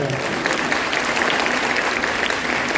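An audience at an education excellence award ceremony applauds, producing dense, loud, sustained clapping that fills the whole moment.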